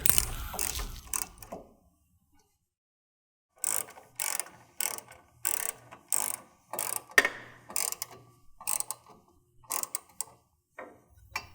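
A hand ratchet clicks in steady bursts while tightening two bolts on an aftermarket power steering cooler fitted to a 2007-2018 Jeep Wrangler JK. Close, crisp ratcheting with a short pause early on.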